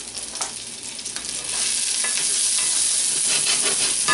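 Garlic hitting hot oil in a pan of cremini mushrooms, with a bright crackling sizzle that swells louder partway through, plus a few stirring scrapes and no talk.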